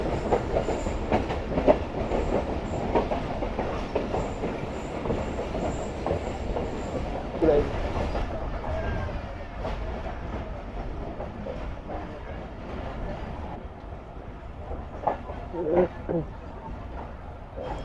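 Rehman Baba Express train running through a mountain tunnel: a loud, steady rumble and clatter of wheels with occasional sharp squeals, with faint voices underneath.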